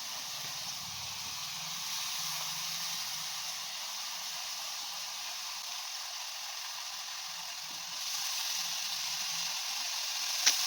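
Potatoes frying in a pan with wood mushrooms give a steady, soft sizzle and hiss that swells slightly near the end, with faint clinks and no talking.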